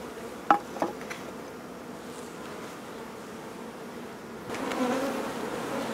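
Honeybees hum steadily around a hive getting ready to swarm, with a few sharp wooden knocks early, and the buzzing swells louder near the end.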